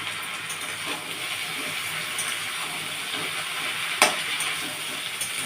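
Snake gourd pieces drop into a hot pan with onions and chillies, producing a continuous loud sizzling hiss with one sharp clatter partway through.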